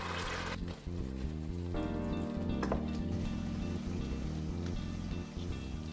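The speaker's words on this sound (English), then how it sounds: "Add the blended onion mixture into the pan and fry gently for about 15 minutes." A blended onion mixture fries gently in sunflower oil in a pan for a Burmese pork curry, giving a steady, soft crackling sizzle that carries on evenly throughout with no talking.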